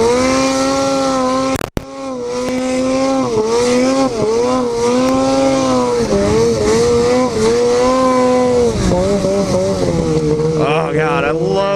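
A snowmobile engine with an aftermarket GGB trail can exhaust, loud and raspy, revs and holds high, its pitch rising and falling in waves, with a sharp crack early on, close and alone.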